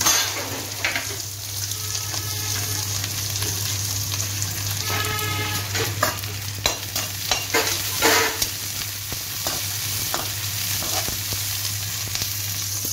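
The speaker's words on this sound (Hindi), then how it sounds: "पहले थोड़ा सा लहसुन भून लिया मैंने फिर उसके बाद ये प्याज" Garlic and onion frying in oil in a pan, a steady close sizzle with intermittent scraping and stirring clatter throughout, no voices.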